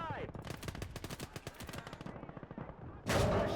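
A 37 mm gun fires in the World War II strategy game Gates of Hell, a rapid series of sharp reports in quick succession, followed by a louder blast at the end.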